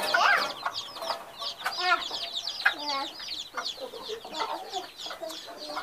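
A hen clucks among her fifteen chicks on a farm, low clucks mixed with a dense chorus of high peeping chirps close by, with a voice speaking faintly underneath.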